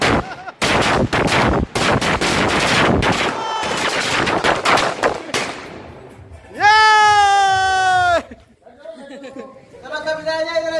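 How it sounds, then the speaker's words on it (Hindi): A large firecracker set off at a New Year celebration crackles as a string of loud, rapid, close bangs for several seconds, followed by people shouting and calling out. "बहुत बड़ा बम है ये"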